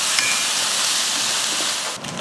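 Dried fish (karuvadu) frying in hot oil in a kadai, a dense, steady crackling hiss close up that dips briefly near the end.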